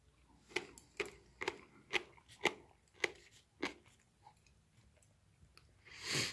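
Crunchy pickled vegetable from a 2018 Chinese military ration is chewed close up, about eight crisp bites in a steady rhythm, followed by a brief rustle.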